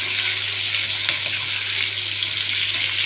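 Breaded cutlets (panée) frying in hot oil give off a loud, continuous crackling sizzle close up, with a steady low hum beneath it and a few sharper pops. No one speaks.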